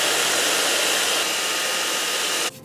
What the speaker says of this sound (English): We're just gonna speed up the process with this hairdryer.